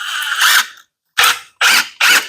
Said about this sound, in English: Then we're going to run these screws down.